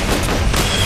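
An airstrike explodes in Metal Gear Solid: Peace Walker amid dense, continuous gunfire and blasts, a loud rumbling barrage with bursts near the start and middle.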